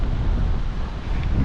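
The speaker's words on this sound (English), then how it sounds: "It's windy, man." Steady wind rushes across the microphone while fishing for channel catfish on the Snake River, a constant, fairly loud blustery noise with no voices.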